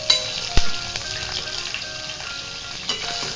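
Mustard seeds, chana dal, urad dal and green chillies fry in hot oil for jowar upma, giving a steady close sizzle with sharp pops and spatters throughout, no voices.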